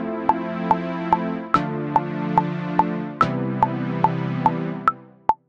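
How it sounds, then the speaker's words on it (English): Metronome clicks tick at an even tempo over sustained chords in a BandLab chord progression, with accented clicks at the start of each bar and no voice. "if you put the metronome here, then it should sound like this"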